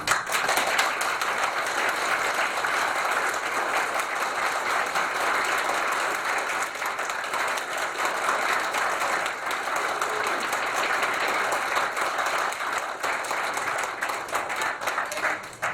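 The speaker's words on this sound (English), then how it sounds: "let's not clap and boo" A community meeting audience breaks into sustained applause, a steady dense wash of many hands clapping for about fifteen seconds at even loudness, with no talk over it.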